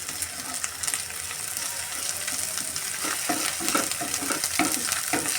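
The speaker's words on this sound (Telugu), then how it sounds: "ఉల్లిపాయలు కూడా వేగుతున్నాయండి" Onions frying in a pan with ginger garlic paste for green chicken curry, a steady close sizzle with occasional scraping stirs toward the end, no talk.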